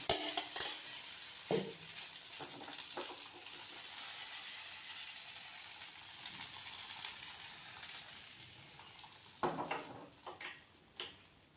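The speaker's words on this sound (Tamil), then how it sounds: "சட்டி நல்லா காயணும் இப்படின்னு சுரியும் சத்தம்" Kodo millet (varagu) rice appam batter sizzles in a well-heated pan: a steady, faint hiss with a few light metallic clinks near the start and end, and no voices.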